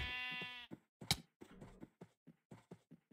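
A sheep bleats in the Minecraft SevTech modpack, one drawn-out bleat at the start, followed by clicks and light knocking taps of block breaking and footsteps.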